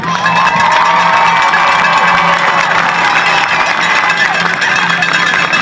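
A crowd at a high school Friday night football game between Hilldale and Fort Gibson applauds and cheers its senior band members, a loud, steady wash of clapping and shouts throughout.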